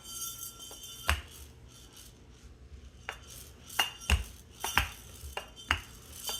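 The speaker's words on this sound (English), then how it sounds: "I'm going to use a knife to cut it into triangles" Knife cutting scone dough into triangles on a hard board, with a few sharp, spaced knocks of the blade hitting the surface, some louder than others, and quiet kitchen background between strikes.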